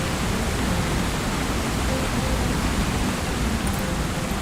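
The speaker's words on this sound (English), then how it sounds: "All right, so we have the great waterfall here." Great waterfall in Lord of the Rings Online, a loud, steady, unbroken roar of rushing water filling the whole scene, with no talking.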